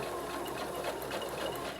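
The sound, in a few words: sewing machine stitching a zippered pouch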